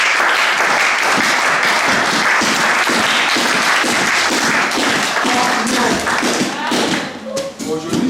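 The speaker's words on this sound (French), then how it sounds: "Est-ce qu'on peut acclamer la parole?" An evangelical church congregation claps and cheers together in a loud, dense burst of applause with rhythmic thumps, voices mixed in, tapering off near the end.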